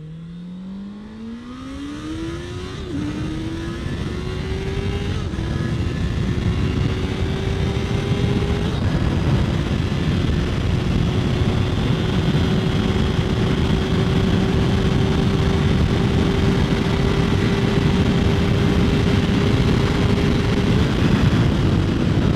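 A 2019 Honda CB650R inline-four motorcycle accelerates hard through the gears from the rider's position, its engine note rising sharply with each shift before settling into a loud, steady high-revving drone under wind noise.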